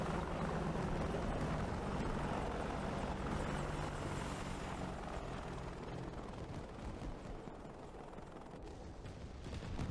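Two Apache attack helicopters in the combat flight game DCS, a steady loud rotor and engine drone throughout with a chopping low throb, no voices.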